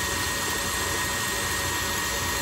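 An electric hand mixer runs steadily, beating batter for a fermented cassava cake, a continuous close motor whir with no talk.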